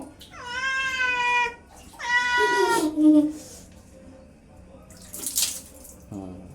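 Cat named Likot being bathed with water, giving two long loud drawn-out meows close by, then a short cry, with splashing and running water between them.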